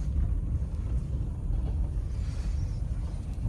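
Maruti Suzuki S-Presso hatchback with a K-series petrol engine driving along, a steady low engine and road rumble heard from inside the cabin, continuous and fairly loud with no talk.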